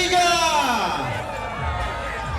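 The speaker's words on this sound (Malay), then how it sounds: "Boleh saya dengar sorakan daripada ibu bapa ke atas sebut tak?" Parents cheer at a children's under-10 football tournament, the Safee Sali SuperKids Cup, giving a loud crowd roar with whoops and overlapping voices that swells and holds through the moment.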